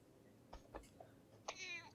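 A cat meows from a video playing on a computer, a few short faint mews followed by a longer meow, heard softly in a quiet room.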